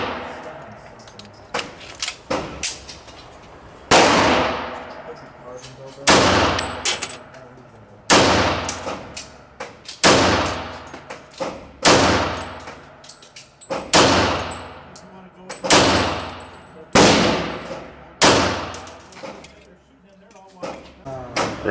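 A Remington R1 1911 pistol fires about a dozen loud, sharp shots at irregular intervals, each one ringing out with a long, echoing decay.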